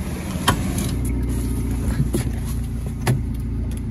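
Inside a moving car, a steady engine and road rumble drones on evenly, with a few faint clicks and taps on top and no talking.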